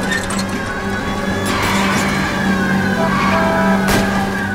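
A car engine revs hard and steadily during a pursuit in L.A. Noire, loud and close, with tire noise and brief skids over the sustained drone.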